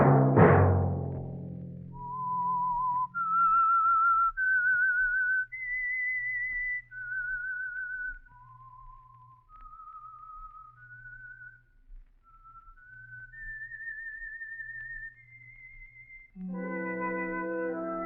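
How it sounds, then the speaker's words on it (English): A lone whistler plays the theme signal of The Whistler radio program, a slow melody of clear sustained notes rising and falling, loud and close, opening after a crash and closing on an orchestral chord. "Let that whistle be your signal for the Signal Oil program, The Whistler"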